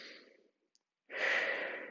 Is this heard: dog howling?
no